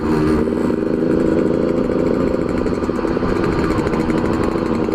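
Motorcycle engine, one of a pair of bikes, a Fiz R and an RC 100, running hard on a ride home, a steady loud mid-pitched drone with continuous revving and a faint rattle throughout.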